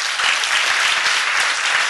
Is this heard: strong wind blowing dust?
no